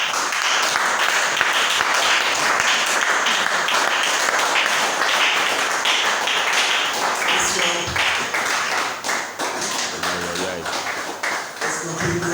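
A church congregation at a French-language service applauds and cheers for Jesus, a dense, loud wall of clapping and shouting that stays steady throughout, with voices and musical tones mixed in toward the end.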